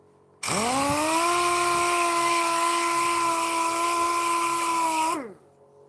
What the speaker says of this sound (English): Trying to fend me off with the sander.